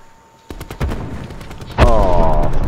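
Gunfire in the Black Ops 4 video game arrives as a burst of sharp, rapid shots followed by a louder blast with a ringing tail, all within about three seconds.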